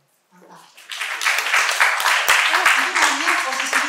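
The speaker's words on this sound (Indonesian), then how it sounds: "Tepuk tangan dong, mantap." Applause from a seminar audience, a dense burst of clapping that swells quickly and holds steady for a few seconds, with voices mixed in underneath.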